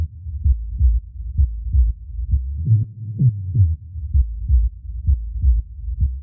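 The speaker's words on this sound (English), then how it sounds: "now you get this interesting sliding pitch groove" A deep techno rolling bassline thumps in a steady, driving pattern of low pulses, with notes that slide in pitch to form a groove, playing alone without voices.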